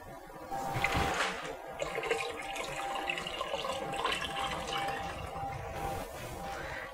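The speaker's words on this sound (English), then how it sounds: "To my 4 cans of chicken stock, I'm going to be adding 4 cups of water." Water is poured into a pot of chicken stock for split pea soup, a steady splashing gurgle lasting several seconds at moderate, close volume.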